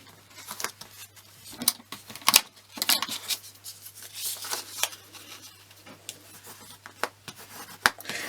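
Rough folding of a paper page for a junk journal collage book, heard as crisp rustles, creases and scraping paper handling coming in irregular bursts, close and moderately quiet, with no talking.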